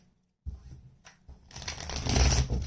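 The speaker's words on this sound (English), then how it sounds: "If I can get the cards to shuffle," Tarot cards being shuffled by hand: after a quiet start, a few soft riffles and flicks give way to a denser, louder shuffling burst, close up and alone.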